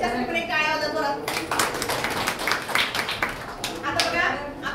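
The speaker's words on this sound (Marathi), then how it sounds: "हिच्यासाठी टाळ्या वाजवा जोरात." A classroom of students claps for a classmate's answer during a lesson, a dense burst of hand claps lasting a few seconds, with a teacher's voice speaking before and after.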